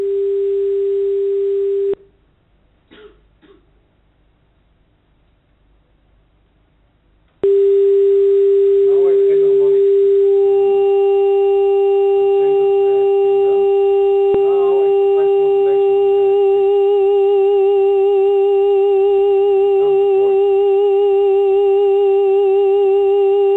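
Synthesizer tones sound as one loud, steady pure tone that cuts out briefly and then returns, with further tones layered on top to build a sustained chord.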